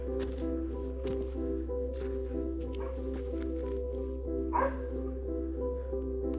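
At a remote mountain cabin by Blue Lake in the Hoover Wilderness, a dog gives a few scattered, moderately distant barks and yips over a constant low background hum.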